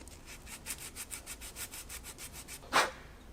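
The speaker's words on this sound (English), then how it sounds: "they got paint on the ringland surface. Let me get the sandpaper bag out." Sandpaper is rubbed back and forth on the ring land of an ATV engine piston to take off paint, a quick steady run of close, soft scratchy strokes that ends in one sharper scrape.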